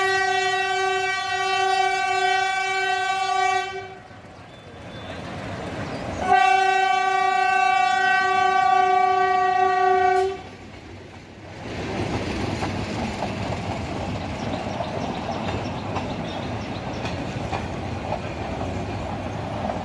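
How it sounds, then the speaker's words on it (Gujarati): A metre gauge train passes through Sasan Gir station, sounding long loud horn blasts twice, separated by a short gap, then the rumble and clatter of the rolling cars continues steadily to the end. "સાસણગીરમાંથી પસાર થતી મીટર ગેજ ટ્રેન."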